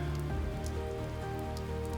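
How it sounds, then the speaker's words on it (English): Soft, steady rain pattering down in a dense, continuous wash, with scattered brighter drop ticks over a low, even background and no voices. "the soft rain drops, pattering down on you"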